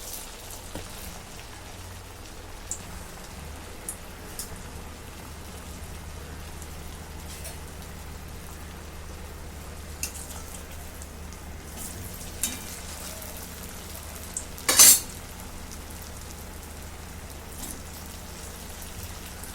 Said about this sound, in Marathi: तेल गरम झाले आता याच्यात वडा सोडून घेते